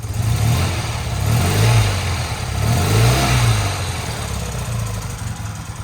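Old car engine idling after sitting unused for more than 20 years, a steady loud mid-pitched rumble with slight uneven surges in speed, heard alone without talk.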